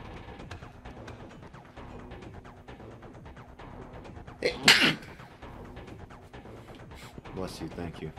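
One sharp, loud sneeze bursts out midway, standing clearly above soft background voices and low, steady sounds around it.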